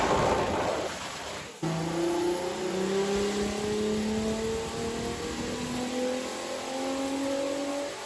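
An Opel Corsa C with a 3.2 V6 turbo engine revs on a dyno, a loud close engine note rising steadily in pitch over several seconds after a brief dip.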